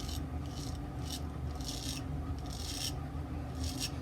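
A Gold Dollar W59 straight razor shaves about three days of stubble with repeated short raspy scraping strokes, up close and quiet over a steady background hum.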